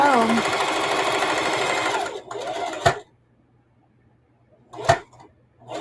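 Sewing machine stitching upcycled old clothing in a rapid continuous run for two seconds, followed by a short burst and a couple of sharp mechanical clicks between silences; close and clear.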